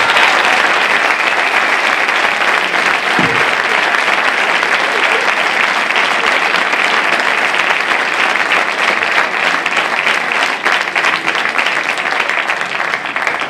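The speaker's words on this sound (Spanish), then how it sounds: "Un aplauso, por favor, muy grande para ellos" At a Christmas concert given by a clarinet and saxophone band with a choir, the audience breaks into loud, sustained applause, a thick wash of many clapping hands lasting throughout with a faint murmur of voices beneath.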